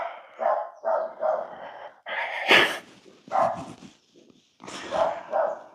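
A dog barks repeatedly indoors, a string of close, sharp barks in uneven bursts with short pauses between them.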